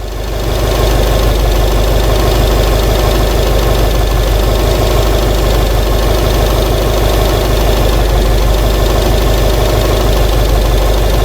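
A 2008 Subaru Legacy with a stalling fault runs loudly and steadily up close, its engine giving a dense, rough, knocking drone with no voices over it.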